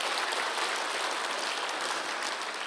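A church congregation applauds during a Sunday worship service, many hands clapping in a steady, moderately loud wash that continues evenly without a pause.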